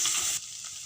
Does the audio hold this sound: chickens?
no